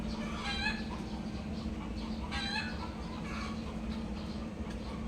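Chickens clucking in short bursts over a steady low hum and background noise, with a few louder calls standing out.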